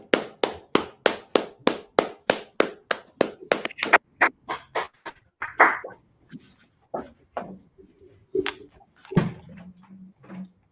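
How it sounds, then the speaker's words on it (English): Audience clapping at a gathering in Harlem, New York, starting with a run of loud, evenly spaced claps that break into scattered, irregular claps from several people as it trails off. "All right, clap it up."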